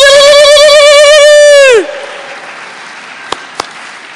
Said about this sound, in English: Can I hear you ululating?